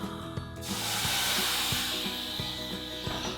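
White wine hits a hot pan of toasted risotto rice and onions with a sudden loud sizzling hiss that swells and then settles into steady bubbling steam, with no talking.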